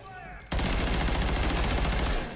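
A burst of rapid automatic gunfire in a video game shooter, about thirty rounds emptied from one gun, loud and close with dense machine-gun rhythm for nearly two seconds, after a brief voice at the start.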